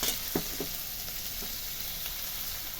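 Chopped beans are stirred into a chicken momo filling frying in a pan, giving a steady close sizzle with a few soft scrapes and knocks of stirring near the start.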